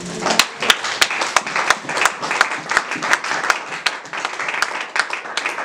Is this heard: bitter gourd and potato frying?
no